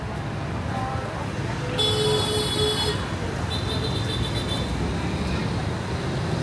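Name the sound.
motorcycles and traffic on a busy street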